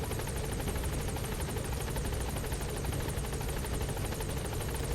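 A helicopter in Metal Gear Solid V, a steady fast rotor chop with a high turbine whine, constant and close throughout with no voices over it.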